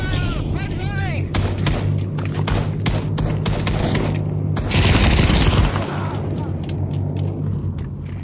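Rapid gunfire in the Pavlov VR shooter game's Stalingrad battle, dense bursts of shots over a steady low rumble, with a louder blast partway through and voices in the background.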